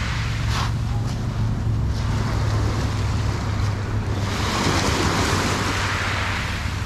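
Wind blowing at a cold shore, a loud constant rushing roar buffeting the microphone with surf-like swells, no voices.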